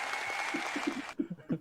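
Audience clapping for guests on a morning show, a dense wash of applause that stops abruptly, followed by a few low, close voice sounds.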